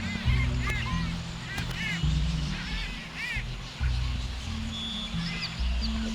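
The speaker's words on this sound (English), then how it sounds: "so we're gonna go back over now to where they house the birds. Tons and tons of birds over there." Geese and ducks honk and quack in repeated bursts at a bird house in Konoko Falls and Park, Ocho Rios, Jamaica, over a steady low rumble and faint background sounds.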